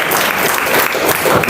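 Steady applause fills a classroom or seminar question-and-answer session, a dense, even wash of hands clapping throughout with no pauses.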